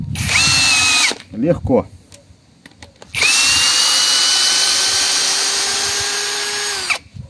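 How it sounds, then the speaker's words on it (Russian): A LUDYVI BL150 cordless drill in drilling mode drives a screw, whining loudly for about a second, stopping briefly, then running steadily for several seconds before cutting off; a short spoken word falls in the gap between runs. "Давайте добьем в режиме сверления, посмотрим."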